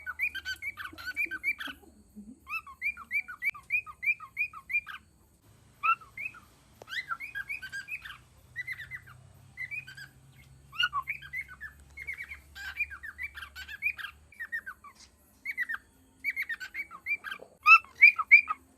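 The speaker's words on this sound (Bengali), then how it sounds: "ককটেল বা ককাটেল পাখি যখনই এরকম মিষ্টি আওয়াজ করে তখনই বুঝে নিতে হবে ওরা ডিম বাচ্চা করবে, সেই জন্য মিটিং কল করছে" Pet cockatiels at home give a long run of sweet, whistled mating calls, rapid chirping phrases in bursts with short pauses between them, crisp and close against a quiet room, with a faint low hum underneath.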